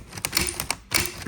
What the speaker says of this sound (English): if I type an E to write hello, it's typing right over the H.